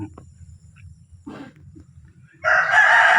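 A gamecock rooster crows loudly and close by, a single strong, sustained call that starts late and holds to the end, preceded by soft clucking and low background rumble.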